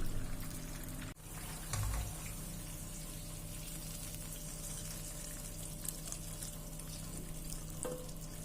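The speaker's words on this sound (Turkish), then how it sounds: "Şimdi üzerine su ekliyorum." Water poured into a pan of fried tomato paste for stuffed cabbage rolls with meat, a steady sizzling hiss with a sharp click near the start, close and continuous without talk.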